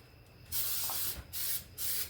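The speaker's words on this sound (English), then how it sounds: "I'm going to spray this down with some just non-stick cooking spray" Several bursts of non-stick cooking spray hissing, close and loud: one long spray followed by two shorter ones with brief pauses between.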